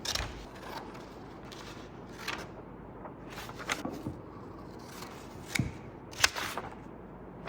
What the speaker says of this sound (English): I'm going to take this 18 by 18 piece of craft paper, and I'm going to cut it up into 4 squares